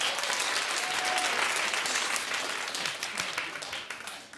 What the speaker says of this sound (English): Clap if you find him gorgeous.